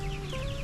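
Chickens crammed into a tight coop cluck in a brief, close burst of steady fowl chatter, with no voices over it.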